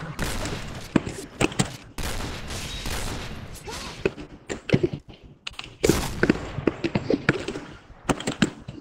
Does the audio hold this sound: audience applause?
no